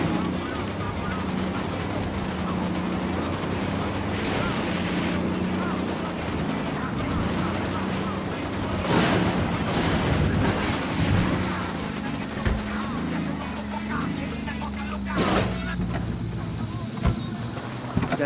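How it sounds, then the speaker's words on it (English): Gunfire in the Ghost Recon Wildlands video game, with scattered shots and bursts cracking over a steady engine-like rumble, with voices talking over the action. "Opening fire."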